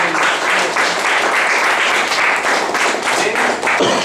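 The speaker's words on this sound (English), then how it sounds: "So I just want to first give a round of applause." A room full of people gives a round of applause at a club meeting, loud and close, with hand claps rising and falling in a steady, slightly uneven stream and a few heavier thumps near the end.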